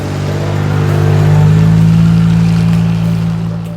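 A car engine drones loud and close, a steady low rumble that swells to a peak midway and then eases off.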